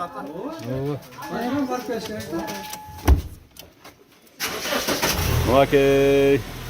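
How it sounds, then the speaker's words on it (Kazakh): A car given as a gift to parents is started, its engine catching and rumbling on after a stretch of people talking nearby, with a cooing bird and a steady tone near the end. "Мынакей от алдырды."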